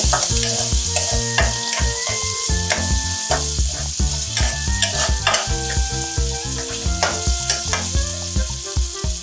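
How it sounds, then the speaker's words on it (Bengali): Steady, close sizzling of chopped garlic, onion and prawns frying in oil, with scraping stirs throughout and music playing in the background. "এটা আমি চিংড়ি মাছের সাথে একটু ভেজে নিব।"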